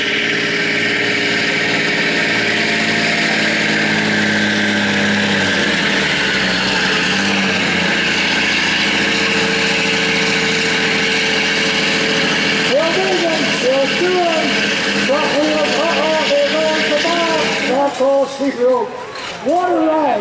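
Stock semi truck engine at a truck pull, a loud sustained roar that climbs and shifts through automatic gear changes, with crowd and announcer talk heard over it.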